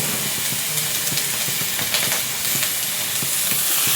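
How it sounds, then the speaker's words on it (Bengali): Food fries in hot oil in a wok, giving a loud, steady sizzle and hiss with faint scraping, and no one speaking. "তেল দিয়ে বেগুনগুলো কড়াইয়ের মধ্যে দিয়ে দিয়েছি। এবার এটা একটু ভাজা হবে"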